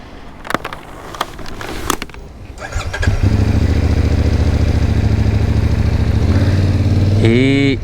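A motorcycle engine fires up at a seaside campsite in Spain and settles into a steady, loud idle close by, after a few sharp clicks and knocks.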